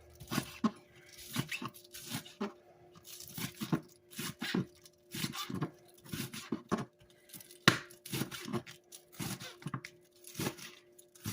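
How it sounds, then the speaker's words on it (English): A knife dices green onion on a cutting board, giving quick irregular bursts of sharp chopping taps with short pauses between them. The cuts sound close and fairly crisp, with no talk over them. "dice up some green onion"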